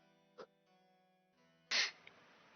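One close, sudden sneeze bursting out at moderate loudness after a faint click, in an otherwise quiet room with a low steady hum.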